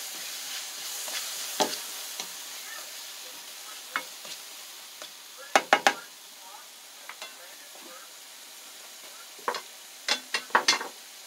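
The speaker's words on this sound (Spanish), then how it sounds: "Lo vamos a sofreír." Pepper, salt, chile, onion and ham sautéing in a little oil in a pan, with soft sizzling and several sharp stirring scrapes and clinks of a utensil, loudest in short clusters.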